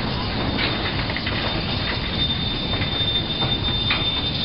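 A 1934 German-built steam locomotive runs on the J.E. Henry Railroad at Loon Mountain. Its steady rolling rumble carries rhythmic wheel clatter and a thin squealing tone, loud and continuous, with no talk.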